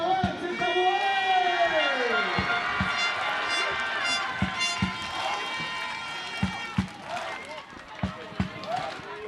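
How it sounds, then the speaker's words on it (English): A crowd of French spectators cheers and chants at a canoe-kayak polo world championship in Saint-Omer, France, a sustained roar of voices punctuated by sharp rhythmic claps or thumps, with a voice speaking over it. "As you can hear, there are a lot of French people cheering on their team."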